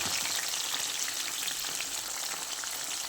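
Corn sizzles steadily in hot groundnut oil, a close, bright, continuous crackle and spatter with no pauses or talk.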